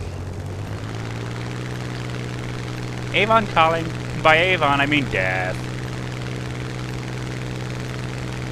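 Propeller drone of a Hawker Typhoon fighter in War Thunder, a steady low engine hum running throughout while several people talk over it.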